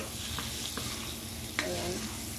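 Garlic, a cinnamon stick, sweet spices and a bay leaf frying in oil in a pan, a steady close sizzle with a few scraping stirs.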